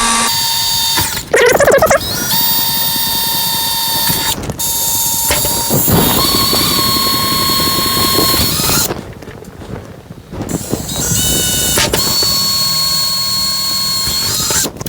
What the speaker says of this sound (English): So hold your drill nice and straight.